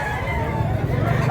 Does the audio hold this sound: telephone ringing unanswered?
no